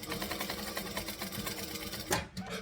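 A sewing machine stitches a garment seam with bonded polyester thread, giving a rapid, even mechanical chatter up close that ends with a brief backstitch and stop.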